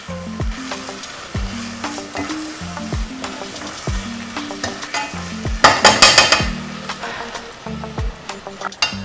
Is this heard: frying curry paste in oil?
yes